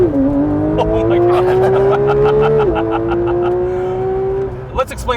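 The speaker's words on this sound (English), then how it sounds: "'22 Porsche 911 GT3 with launch control. Okay, we're in the wet." A 2022 Porsche 911 GT3 launches under launch control on a wet track, its engine holding a loud, steady high-revving drone that climbs and then shifts before dropping away, heard up close from inside the car.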